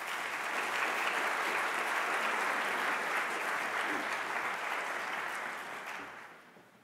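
An audience at a bioethics and humanities conference claps warmly for a speaker being welcomed to the stage, steady full-room applause that holds for several seconds before tapering off at the end.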